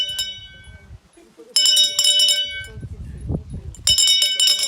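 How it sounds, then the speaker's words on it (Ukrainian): A school bell is rung by hand at a lyceum's 1 September ceremony, giving loud bright clanging bursts at the start, middle and end, with voices and crowd sounds in between. "Дзвони добре"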